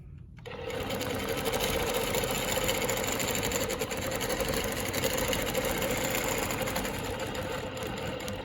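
A longarm quilting machine stitches a Baptist fan pattern, its motor running in a steady close, rapid whir that holds without pause after a quick start.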